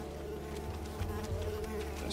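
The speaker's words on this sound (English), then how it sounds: "Stupid mosquitoes." Mosquitoes buzz in the platformer game Unravel, a steady, close insect drone that hums continuously under game ambience, swelling slightly partway through.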